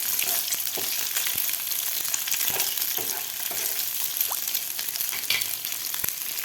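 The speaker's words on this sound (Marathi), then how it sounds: "अंडे सुद्धा आपल्याला तेलामध्ये व्यवस्थित फ्राय करायचे आहेत" Cut boiled eggs fry in oil, producing a constant close sizzle dotted with light crackles and occasional stirring taps, quiet and steady with no voices.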